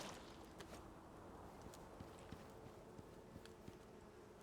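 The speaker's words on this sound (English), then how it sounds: "I hear bees." Bees buzz faintly inside a small cave in the survival game Icarus, a low steady drone with light ticking and scattered clicks layered over it throughout.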